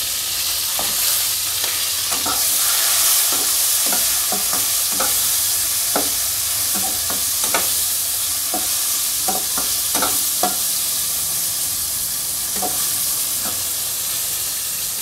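Spices, including turmeric powder, are stirred in hot oil in a pan. A constant close sizzle runs throughout, broken by frequent short scrapes of the stirring utensil, and no one speaks.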